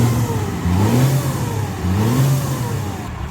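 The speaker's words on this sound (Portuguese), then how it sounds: "Ali é um 6BT Cummins mecânico na F1000, olha lá." Mechanical 6BT Cummins diesel in a Ford F1000 pickup revving up and down twice, a throaty rising and falling engine note, loud and close with no talk.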